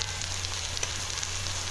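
Pulasa fish pieces go into a pan of hot oil with onions, masala and okra for curry, and a continuous, moderately loud sizzle hisses without pause, with no talking.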